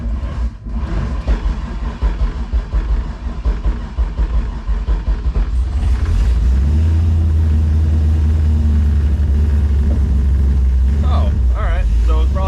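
A Camaro engine is started while in gear, cranking and catching into a deep, steady idle rumble that continues loudly to the end, with someone talking over the earlier part.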